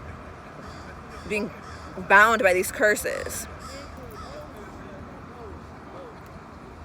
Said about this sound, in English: We got 4 crows to my left.